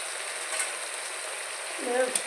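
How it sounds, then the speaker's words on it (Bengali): Fried potatoes and two whole garlic cloves go into chicken cooking in a pot, giving a steady, moderate sizzle with a brief stirring clatter near the end. "দিয়ে দিচ্ছি ভেজে রাখা আলু আর দুটো গোটা রসুন।"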